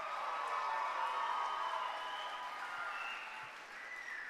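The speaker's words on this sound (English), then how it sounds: "How about a huge round of applause for everybody in attendance today?" Audience applause at a school event day at Mt. Olive, a steady wash of clapping with light cheering, fairly distant and soft, tapering slightly toward the end.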